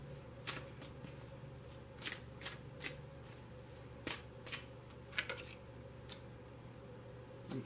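A new oracle card deck being shuffled indoors, with a series of soft, crisp riffling snaps and flicks at an uneven rhythm over a steady low hum.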